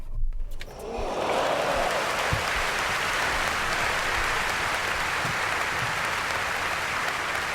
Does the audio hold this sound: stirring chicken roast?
no